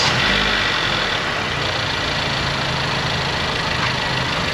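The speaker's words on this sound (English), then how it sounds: "Please start the engine." A truck engine is running at a steady idle, a loud, even rumble with no talk over it.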